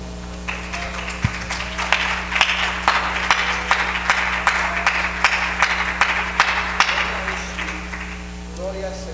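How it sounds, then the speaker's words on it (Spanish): A church congregation claps together in praise during a Spanish-language worship service, a steady burst of many hands filling the room for several seconds over a low constant hum, with a voice faintly present. "Podemos darle un aplauso al Señor."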